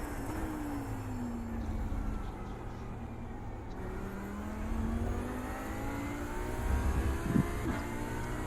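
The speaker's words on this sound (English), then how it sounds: "his Audi is fucking loud" An Audi GT3 race car engine at Laguna Seca in a racing game, revving loudly with rising and falling pitch sweeps as gears change, a sustained up-close drone with a sharper burst near the end.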